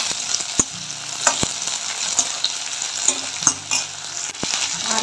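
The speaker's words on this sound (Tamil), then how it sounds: "கத்திரிக்காயும் சேர்த்துக்கலாம். நல்லா வதங்கி வரட்டும்." Brinjal (eggplant) sautéing in a pan with chillies for brinjal kurma, a continuous sizzle broken by repeated sharp scrapes and clacks of a spoon stirring against the pan.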